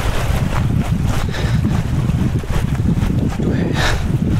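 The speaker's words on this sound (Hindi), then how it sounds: "मुझे थोड़ा थोड़ा वाटरफॉल का आवाज़ सुनाई दे रहा है" Constant rushing roar of Dee Doke Waterfall near Mandalay, Myanmar, mixed with gusty wind buffeting the microphone, loud and unbroken throughout.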